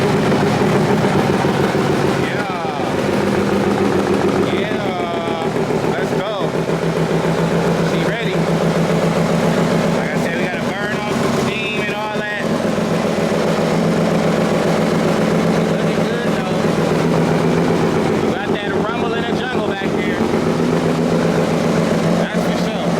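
A 2022 Harley-Davidson CVO motorcycle engine, bought from a salvage auction, rumbles steadily at idle after its first start, a loud continuous throb with brief revs, while someone talks over it.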